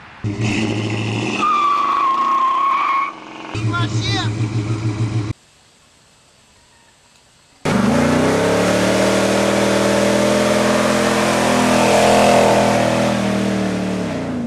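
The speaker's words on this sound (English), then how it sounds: "It's got awesome acceleration, nice firm shifts" A car fitted with a high-performance crate transmission from Monster Transmission accelerates hard and shifts, its loud engine roar climbing and changing pitch, with a pause of near silence midway and music or voices in parts.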